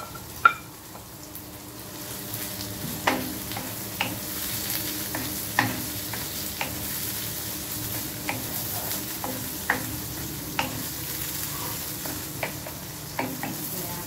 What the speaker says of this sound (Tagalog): Siyempre, igisa natin yung sibuyas. Ayan, isasabay ko na yung kamatis